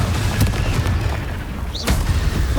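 A Confringo fire spell from Hogwarts Legacy bursts with a loud booming blast over dense rumbling battle noise, with sharp cracks near the start and again just before two seconds, and no talking.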